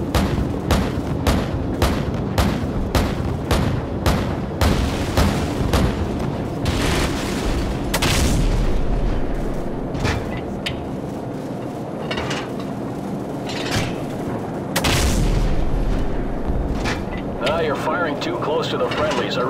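Gunfire and artillery blasts from the Call of Duty 4 video game crack in rapid, repeated bursts, with heavier booms rolling through the mix while radio-style voices talk over the constant shooting.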